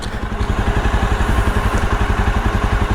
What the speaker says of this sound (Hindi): इसका रेडिएटर ऑन हो चुका है